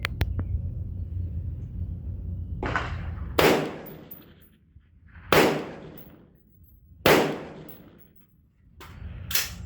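Three sharp rifle shots fired at a 100-yard shooting range, evenly spaced about two seconds apart, each loud and close with a short decaying tail, preceded by a brief rustle.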